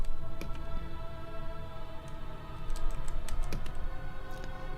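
Steady computer-keyboard typing with irregular clicking keystrokes at moderate level and no talk, set amid a Pseudoregalia gaming session.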